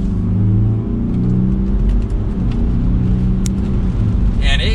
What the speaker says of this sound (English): And we'll give it a little bit of gas now.